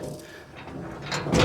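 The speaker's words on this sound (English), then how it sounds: "this sliding door, you've seen me use that before" A sliding door on a homestead cattle barn rolls along its track with a soft grinding rumble that builds toward a louder scrape and thud at the end, close by and without speech.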